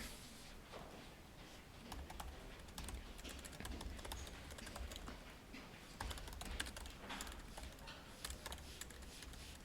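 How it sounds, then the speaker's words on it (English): Fingers type on a computer keyboard in a steady stream of quick, light clicks, faint and continuous with no voices over them. "the amount of times that I failed typing my own name is interesting"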